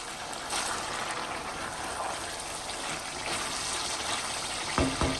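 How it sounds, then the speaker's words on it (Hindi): Water pours steadily into a cooking pot of minced meat, potatoes and peas in a continuous splashing rush, ending with a couple of light metallic clinks. "अब मैं इसके अंदर इतना पानी डालूंगी"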